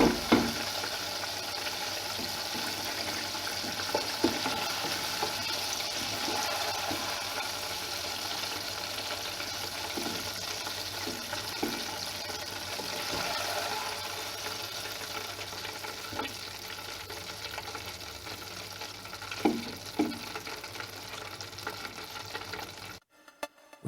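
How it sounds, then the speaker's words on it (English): Chicken pieces frying in oil for a Jamaican fried chicken recipe give a steady, moderately loud crackling sizzle, with scattered pops and spatters throughout before cutting off abruptly. "I'm gonna allow this to fry for like"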